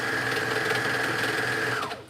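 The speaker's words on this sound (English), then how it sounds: "I'm serging like just a little bit off the top." A serger (overlock machine) trims a fabric edge as it stitches, making a steady, close mechanical whir for nearly two seconds before it winds down and stops.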